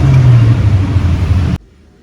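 An auto rickshaw engine running loudly up close, a steady low rumble with slight revving as it pulls away, cutting off sharply to near silence.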